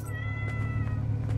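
A cat meows once in the Pumping Simulator 2 game, a clear, steady, close call over a constant low hum, with no talk.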